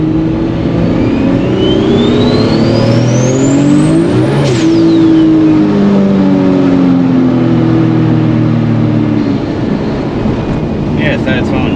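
A Toyota Supra mk4 JZA80 engine revs loud and close through a refreshed Getrag V160 gearbox, pitch climbing and falling as it shifts through gears, with a sharp change near the middle; people talk over it.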